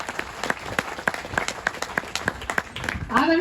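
Brief burst of scattered clapping from a small crowd at a community ceremony in Rajasthan, uneven and moderately loud, ending as a voice starts speaking.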